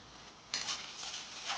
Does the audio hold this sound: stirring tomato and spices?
yes